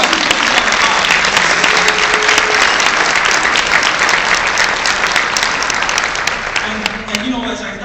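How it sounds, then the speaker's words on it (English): Crowd applause at an awards event, loud continuous clapping filling the room throughout, easing slightly at the end as talk starts. "Give them a round of applause."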